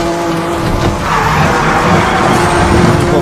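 Tires squeal continuously as a car drifts at speed in the racing video game Need For Speed: The Run, with loud engine roar underneath throughout.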